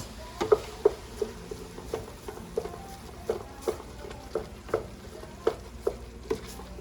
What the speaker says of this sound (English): So we're just stirring this tomato paste.